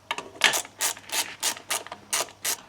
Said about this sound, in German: So, jetzt löst er die Schrauben der Reihe nach ab.